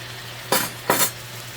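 A turkey burger patty is smashed down on a hot pan in two sharp, close metallic scrapes and presses about half a second apart, over a steady low sizzle of frying.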